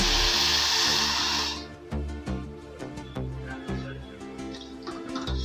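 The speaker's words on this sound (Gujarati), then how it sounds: "જે વાટકીમાં આપણે ખાંડ લીધી હતી એનાથી અડધી વાટકી આપણે પાણી લેવાનું છે" Half a bowl of water is poured for sugar syrup in a homemade mohanthal recipe. A steady rushing pour opens the clip and stops abruptly, followed by light clinks and soft background music.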